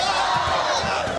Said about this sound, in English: So their hands are up, they're cheering